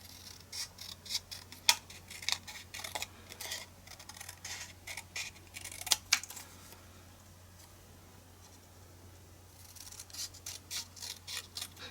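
Scissors snip through paper letters for a momigami journal cover, a series of close crisp cuts in irregular clusters with quiet pauses between, heard alone.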